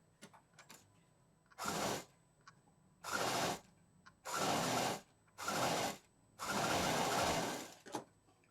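A sewing machine stitches down a singly folded fabric edge in five separate bursts of rapid, close whirring needle action, each lasting about a second or more, with quiet pauses and small clicks between runs.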